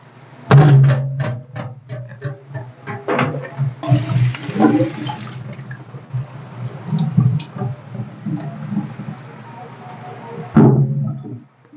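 Water splashes and pours as a homemade grater of galvanized iron sheet punched with nails is rinsed, loud and close, with bursts of gushing and clattering handling.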